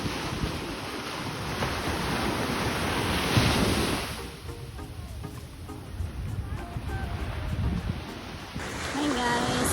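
Sea surf rolls onto the shore at a surf camp in Dulag, Leyte, with continuous washing waves and a louder breaking surge, buffeted by wind on the microphone and faint voices nearby.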